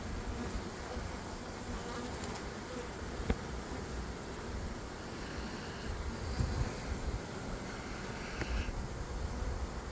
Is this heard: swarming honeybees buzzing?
yes